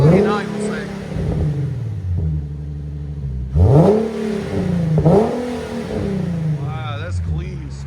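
A 2015 Infiniti Q50 3.7L V6 fitted with Flowmaster and Borla exhaust is revved repeatedly nearby, with several sharp rises and falls in engine pitch. Someone talks over much of it.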